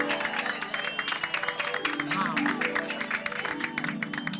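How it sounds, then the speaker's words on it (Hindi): A crowd of Gokuldham Society residents claps for the society's respected teacher: dense, vigorous applause running throughout, with voices talking over it. "हमारी सोसाइटी के आदरणीय शिक्षक महोदय के लिए एक बार जोरदार तालियां हो"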